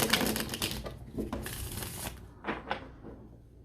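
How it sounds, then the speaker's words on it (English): Tarot cards are shuffled quickly and close up, with dense riffling bursts and a few sharp taps toward the end, with no talking over them. "I'm going to do a quick shuffle."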